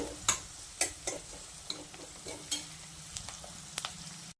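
Onion frying in plenty of oil in a pan, a quiet, close sizzle punctuated by repeated spoon taps and scrapes against the pan as it is stirred, with no talk.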